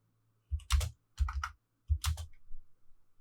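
A computer keyboard being typed on in three short bursts of close, clicky keystrokes with dull thumps beneath, pausing between groups, with no talking.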